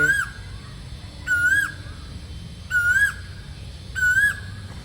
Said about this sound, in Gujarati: બાકી મસ્ત મજાની કોયલું બોલે.